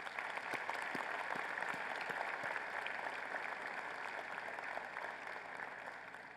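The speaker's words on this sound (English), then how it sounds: "maybe you could join me in giving them a round of applause to welcome them" A commencement audience claps in a sustained round of applause, a dense even patter of many hands heard from a distance and fading slightly toward the end.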